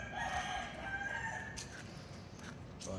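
A 4-month-old McLean x Miner blue gamecock crows once in a long, drawn-out call over steady background noise, fading toward the end.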